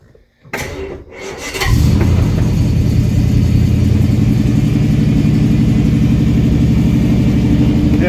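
A 1988 Jaguar V12 Sovereign engine cranks briefly on the starter, catches, and settles into a loud, steady, rumbling idle that holds without change.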